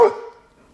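Single dog bark from an assistance-dog puppy at a parade, a sharp loud yelp that fades quickly into quiet.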